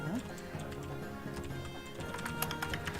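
Rapid clicking keystrokes on a computer keyboard tap along steadily, moderately close, while people talk quietly in the background of a tabletop gaming session.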